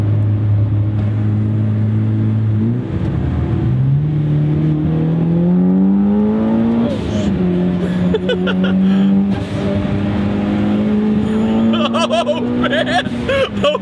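A 2006 Mitsubishi Evo IX GSR drives hard and accelerates, its engine note climbing through the gears with rising whines and shifts, loud and close from inside the cabin, with occasional speech over it.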